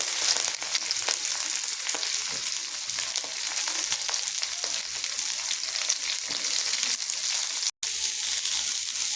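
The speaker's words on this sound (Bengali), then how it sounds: "এখানে আমি সমস্ত সবজি এক এক করে দিয়ে আমি হালকা করে এগুলোকে ভেজে নেবো" Cauliflower, potato, carrot and yardlong beans with curry leaves lightly frying for upma, a loud continuous close sizzle with faint stirring scrapes throughout, briefly cut off near the end, no talking.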